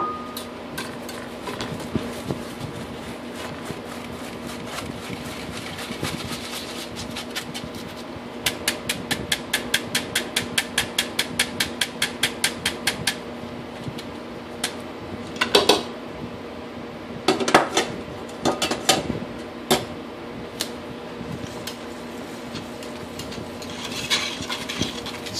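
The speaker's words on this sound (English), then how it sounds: "Stir it till it's all well mixed" Powdered sugar being stirred into chocolate cake batter in a container, with steady scraping and clinking of a utensil against the sides, a quick rhythmic tapping run partway through, and a few louder knocks toward the end.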